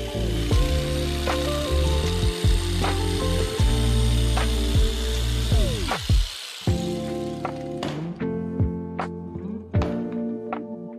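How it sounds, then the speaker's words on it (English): A power jigsaw buzzes through wood in several bursts, its motor pitch rising and falling between cuts, close and loud. "the jigsaw will be used to make the hole larger."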